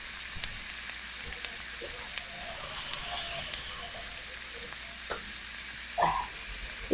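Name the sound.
spices frying in a pan for boal fish curry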